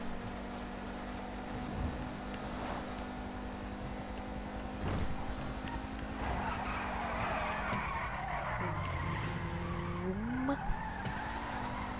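A car on a PS4 racing game drives with a steady engine drone, then its tyres squeal in a long skid as the pitch bends; moderately loud and continuous throughout.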